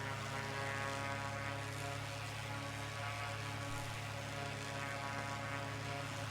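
A propeller aircraft engine droning steadily in the flight game Flyout, an even buzzing hum with strong layered harmonics and no change in pitch or loudness, and no voices.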